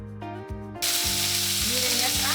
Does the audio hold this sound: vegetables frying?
yes